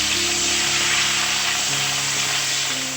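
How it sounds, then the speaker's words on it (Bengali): Paneer frying in a pan on a home stove: a steady, even sizzle and crackle of hot oil running throughout, close and unbroken, with no talking. "আর এদিকে পনির ভাজতে বসিয়েছি, পনিরটা বেশ লাল লাল মতো ভাজাও হয়ে গেছে"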